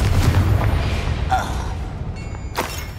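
A Confringo blasting spell going off in Hogwarts Legacy: a few sharp booming bursts and thuds with ringing magical tails, the last one strongest, heard up close over a low rumble and faint background voices.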